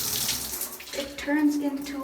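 Shower water sprays through an adjustable nozzle, starting as a broad hiss and shifting to a stronger, more pressurized stream when the nozzle is turned, with a person speaking briefly over it.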